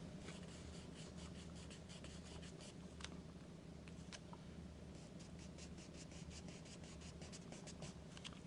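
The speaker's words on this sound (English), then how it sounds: "we bring the eraser and see how much we can erase" An eraser pressed hard and rubbed back and forth over graphite on paper, making faint, close scratchy strokes in a quick, uneven rhythm against a quiet steady hiss.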